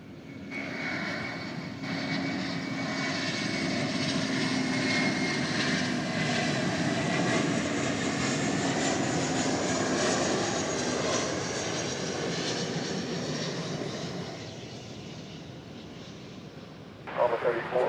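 A passenger jet on the flight from Portland rolls past at DFW Airport, its engine roar loud and sustained for most of the stretch before easing off, with talk and radio chatter over it.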